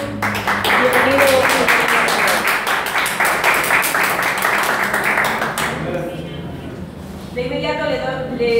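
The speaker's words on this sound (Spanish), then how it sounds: "Por favor, recibamos un fuerte aplauso." An audience applauds to welcome a provincial governor to an interview event: dense, continuous clapping for about five seconds that cuts off abruptly, followed by a voice speaking.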